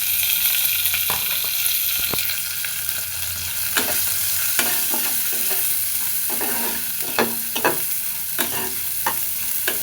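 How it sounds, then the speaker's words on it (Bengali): Black cumin, onion, garlic and green chili frying in oil in a pan for bottle gourd greens paste, a constant loud sizzle broken by repeated sharp scrapes and taps of a stirring spoon, with no talk. "তেলের মধ্যে দিয়ে দিলাম কালো জিরে, দিয়ে দিব পেঁয়াজ রসুন কাঁচামরিচ"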